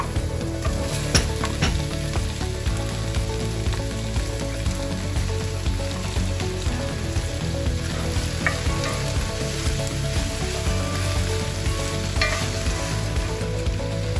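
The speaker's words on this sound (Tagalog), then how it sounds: "Cook the pork for a few minutes." Pork and onion fry in a pan with a steady, dense sizzle and occasional stirring scrapes, close and continuous without any talk.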